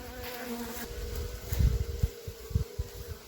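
A low, steady buzzing of many bees from a disturbed beehive close by, with irregular thumps and bursts that grow louder toward the middle and end.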